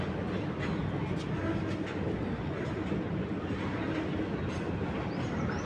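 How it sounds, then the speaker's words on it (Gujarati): A diesel train rumbles past in a continuous, loud roar of engine and rolling wheels that stays steady throughout, with no clear talk over it. "સરસ મજાનું ડીઝલિયું નીકળ્યું છે"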